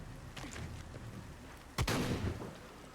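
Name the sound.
shotgun firing at rubble in Tomb Raider video game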